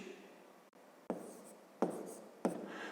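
Pen on paper writing out a column subtraction by hand, with soft scratchy strokes and a few sharper taps as digits are set down, close and quiet with no talk.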